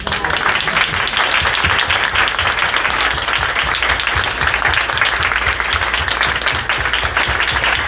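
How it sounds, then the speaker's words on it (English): Diners at a vegan restaurant break into a loud, sustained round of applause, dense clapping that carries on steadily throughout without speech. "I want to ask for a round of applause for that"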